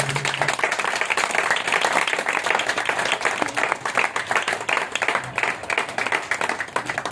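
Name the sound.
congregation clapping hands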